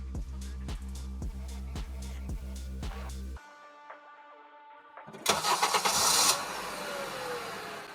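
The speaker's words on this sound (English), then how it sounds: "Then they would start the car with a screwdriver." Car started with a screwdriver in place of a broken ignition: a rhythmic starter cranking, a brief lull, then the engine catching and roaring up loudly before settling.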